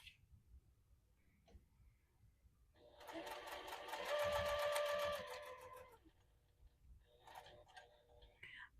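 Sewing machine stitching a leather wallet in short forward-and-back bursts, a loud steady rapid run of stitches for about three seconds in the middle, with quieter handling sounds before and after.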